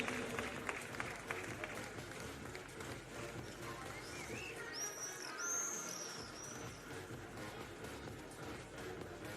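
Stadium crowd at an athletics championship in Monaco clapping for runners finishing the 5000 metres, a faint distant patter of applause under ambient noise, with high whistle-like tones midway and some talk.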